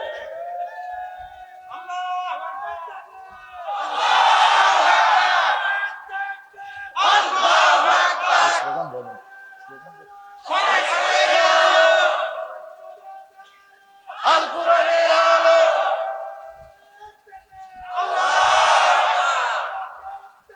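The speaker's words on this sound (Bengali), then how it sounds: "একটু গলা ছেড়ে স্লোগান দেন তো" A rally crowd chants slogans loudly in five rhythmic bursts, roaring voices in unison separated by brief pauses with a lone voice leading between them.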